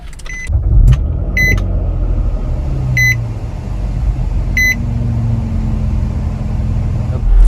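A Nissan Maxima SR sports sedan's engine starts up with a push-button start, preceded by several short beeps, then settles into a steady low idle rumble heard from inside the cabin.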